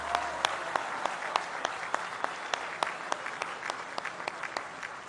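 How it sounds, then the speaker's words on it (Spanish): An audience at a women's pension card handover event in Putla, Oaxaca claps for the artisans who weave huipiles. The applause is fairly quiet and sparse, with distinct individual claps ringing out over a soft crowd background. "Un aplauso a todas las artesanas."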